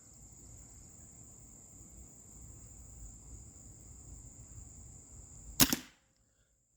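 Hatsan 135QE Carnivore .30 caliber air rifle fired once at a paper target: a single sharp, loud crack over steady outdoor hiss and a high insect-like whine, then abrupt silence.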